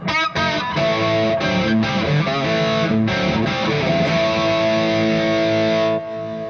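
An electric guitar runs through a distortion pedal set to maximum gain, giving thick, sustained, saturated chords, loud and close, with a few sharp strums before the sound cuts off near the end.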